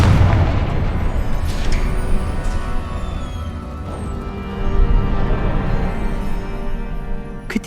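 In the video game Hogwarts Legacy, a Confringo spell explodes in a heavy, rumbling blast that fades out, followed by a second deep boom and crackling debris amid game ambience.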